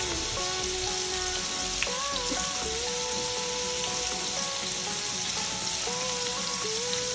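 Lamb chops with herbs frying in garlic butter in a pan, a steady, close crackling sizzle that continues without pause, with a faint tonal hum in the background.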